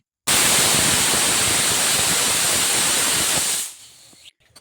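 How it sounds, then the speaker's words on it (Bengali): Pressure cooker with soaked red lentils and rice gives a loud, steady hiss of escaping steam for about three and a half seconds, then cuts off abruptly, leaving faint kitchen clatter. "রান্না বসিয়ে দিয়েছি প্রেশার কুকারে ডাল সিটি করছি"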